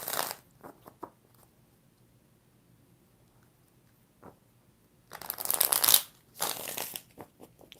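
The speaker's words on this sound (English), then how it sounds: "One more shuffle." Tarot cards are shuffled in several brisk bursts, crisp riffling and slapping sounds separated by quiet pauses, close by with no talking.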